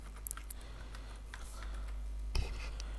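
Someone types an email address and password on a computer keyboard while signing up for an account. Faint, sparse key clicks sit under a steady low hum, with one sharper tap near the end.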